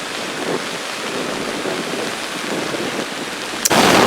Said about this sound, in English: this is the height of the beginning of the storm